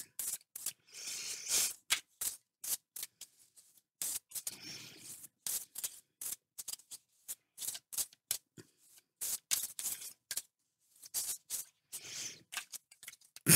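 Deck of tarot cards being shuffled, a series of crisp riffling bursts separated by short pauses, close and fairly quiet with no talking.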